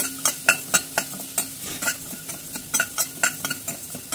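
Fennel seeds dry-roasting in a pan over a low flame for mango pickle, stirred with a utensil in quick, regular scraping strokes, a dozen or more crisp close-up scrapes with a faint sizzle beneath and no talking.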